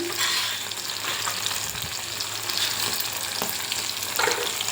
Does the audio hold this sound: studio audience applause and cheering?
no